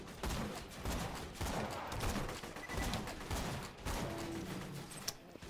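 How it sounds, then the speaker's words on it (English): Shotgun sniper rifle fire in Borderlands 2, with repeated booming shots in a steady rhythm over a busy wash of game noise, moderately loud throughout. "you're getting a little bit of the shotgun sniper rifle here"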